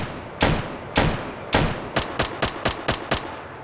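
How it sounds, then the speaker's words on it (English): Gunfire from a gun in Fallout New Vegas: three loud, spaced single shots followed by a quicker run of about seven sharp reports, close and alone with no talk. "Who are you shooting at?"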